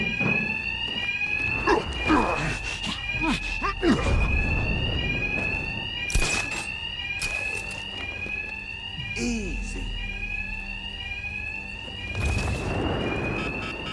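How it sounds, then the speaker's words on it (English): A bank alarm rings steadily throughout a heist in the video game Batman: Arkham Knight, its repeating electronic tones sustained and loud beneath combat thuds and voices. "My attacks will be covered by the noise of the alarm."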